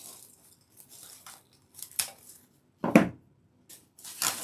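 Scissors snip off the loose end of a zip tie on a lemon-decorated grapevine wreath: a few crisp, separate cuts spaced apart, close and fairly quiet, with faint rustling between them.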